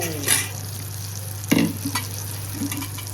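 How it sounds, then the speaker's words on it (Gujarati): Legume curry being tempered in hot oil in a home kitchen: a few sharp crackling bursts of sizzle rise over a steady low hum, close and moderately loud. "તો કઠોળનું શાક વઘારવાનું શરૂ કરી દીધું"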